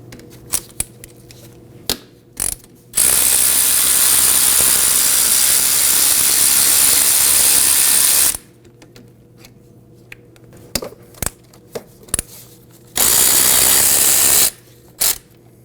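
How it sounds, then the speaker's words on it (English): A ratchet working loose the 12mm brake caliper bolts on a 1993–2001 Subaru Impreza. Scattered single clicks frame two long, loud, continuous ratcheting runs, close and with no talking. "remove the caliper bolts with a 12mm"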